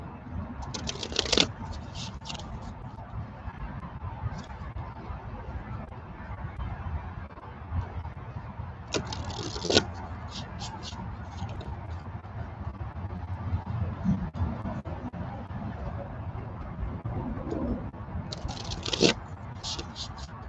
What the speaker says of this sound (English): Okay, shuffle the deck now.